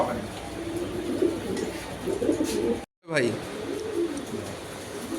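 Male racing pigeons coo in soft, repeated rolling calls close by, while someone talks over them, with a brief cut of silence midway.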